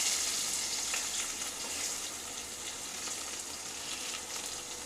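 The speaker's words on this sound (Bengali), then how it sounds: "আলুগুলো এক সাইড ভালো করে ভাজা হয়ে গেছে" Potatoes frying in a pan on low flame: a dense, even sizzle holding steady throughout, close and continuous, with no voices.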